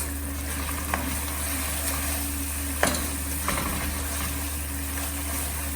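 Chopped chilies frying in a rice pan, a steady even sizzle with a low background hum and a few sharp scrapes or taps as the mixture is stirred, no talking.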